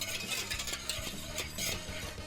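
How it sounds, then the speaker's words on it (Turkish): Bone broth soup being stirred in a pot, with rhythmic scraping and sloshing strokes and light metallic clinks, close up and fairly loud. "İyice karıştırıyorum."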